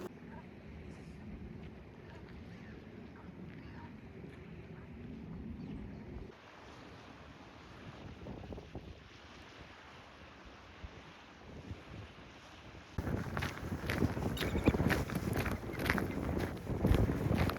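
Wind gusting on an open riverside walk, buffeting the microphone in a low rumble that eases, then surges back loud and roaring toward the end, with no speech.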